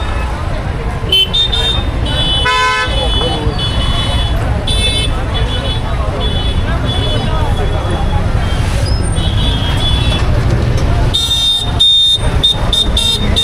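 Several car and bus horns honk in short bursts and longer blasts in a traffic jam near Veer during a temple fair, over loud, constant road rumble with voices nearby.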